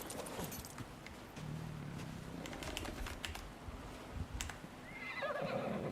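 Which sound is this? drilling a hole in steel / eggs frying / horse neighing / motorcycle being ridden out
horse neighing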